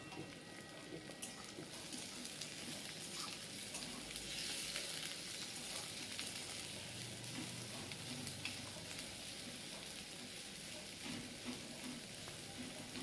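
Onions frying in mustard oil in a kadai over high heat for dum mutton, a soft, continuous sizzle and crackle heard faintly and evenly throughout, with no voices.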